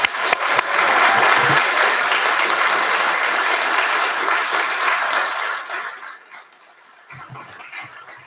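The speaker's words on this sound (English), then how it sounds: "can we give Karen a huge round of applause" A council chamber at a borough meeting breaks into sustained applause from the audience, loud and dense for several seconds before thinning out and fading near the end.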